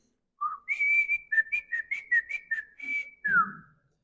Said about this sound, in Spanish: yo sabía que yo iba a juntar a mis hijos con el silbido